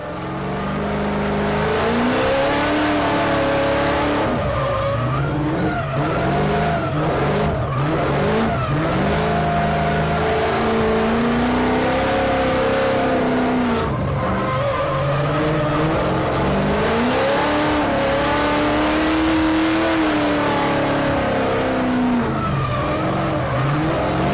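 A drift car warms up on a skid pad, its engine revving and rising and falling in pitch continuously while tires squeal and skid through repeated slides, loud and close with no talking.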